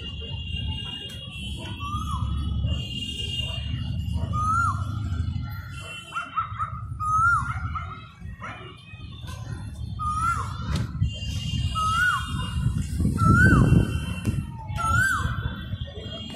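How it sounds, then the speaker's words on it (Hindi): An Asian koel calls repeatedly at sunset in Patna City, a clear rising note recurring roughly every second or two, over steady outdoor background noise and faint distant sounds. "देखिए कोयल महाराज बोल रहे हैं,"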